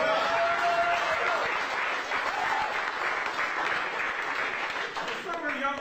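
Crowd at a Middletown black box theater show clapping for a departing performer; a few seconds of moderate applause with some chuckles and a voice speaking over it.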